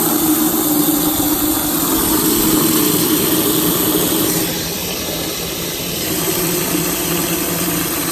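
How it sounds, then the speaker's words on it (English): Water from a garden hose fills an Igloo Recool paper cooler. A loud, continuous rushing hiss holds throughout and dips slightly midway before building again, with no speech. "So just fill this thing up with a garden hose."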